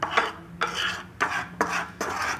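A utensil scrapes and stirs brown sugar and butter in a pan, five distinct rhythmic scraping strokes about half a second apart, close and clear with no talking.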